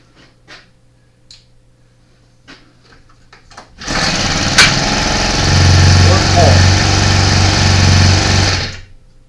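Two small tiller engines run together, one of them fuelled with bad gas, making a loud, buzzing, high-pitched drone that starts suddenly after a few faint knocks and holds steady for several seconds before cutting off.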